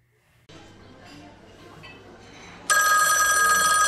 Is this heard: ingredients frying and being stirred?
no